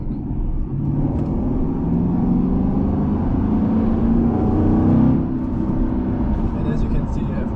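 Naturally aspirated 6.2 liter LS3 V8 in a Chevrolet Corvette accelerating on the Autobahn, a steady loud low rumble from inside the car that swells slightly mid-run and then eases.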